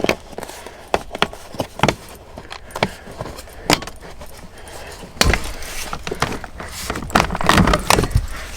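Plastic clicks and sharp snaps as a glove box trim panel is unclipped inside a Mercedes C350e, a rapid series of close, crisp pops and rattles, busier and louder toward the end.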